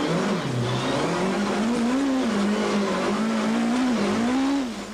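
A Volkswagen Golf rally car in Tour Natal 2002 drives through thick mud, its engine droning steadily and rising and falling in pitch as it revs, loud and close, from inside the car.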